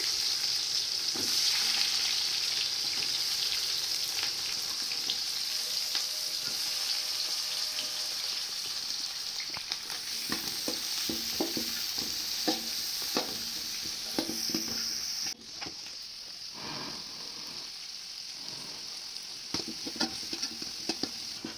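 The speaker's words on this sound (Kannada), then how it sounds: "ಎಣ್ಣೆ ಮತ್ತು ತುಪ್ಪ ಇವೆರಡು ಬಿಸಿಯಾದ ನಂತರ ಇದಕ್ಕೆ ಕಟ್ ಮಾಡಿ ಇಟ್ಕೊಂಡಿರುವ ಈರುಳ್ಳಿನ ಹಾಕಿ ಚೆನ್ನಾಗಿ ಫ್ರೈ ಮಾಡ್ಕೋಬೇಕು" Chopped onions frying in hot oil and ghee, a continuous bright sizzle with scattered stirring scrapes and taps, fairly close and steady throughout, with no talking.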